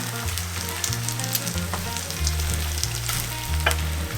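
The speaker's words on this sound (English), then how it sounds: "I like doing this on the hot plate because I can cook two at the same time." Okonomiyaki pancakes fry on a hot plate, two cooking at once, with a steady close sizzle and crackle that runs continuously for a few seconds and has no voices.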